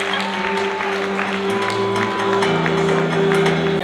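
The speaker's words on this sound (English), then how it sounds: "A round of applause for the content creators." An audience at the 1 Billion Followers Summit applauds content creators with steady, dense clapping over a constant hall hum, filling the room without a break.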